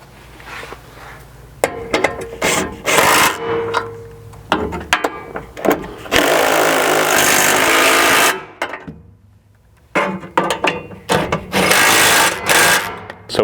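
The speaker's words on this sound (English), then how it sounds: "we'll now go back up front again with our 18 and tighten up that forward mounting hardware" An 18 mm socket tightens the forward mounting hardware of a floor frame in a Jeep JKU Wrangler, heard as a series of loud, close mechanical whirring bursts with short pauses between them and no voices.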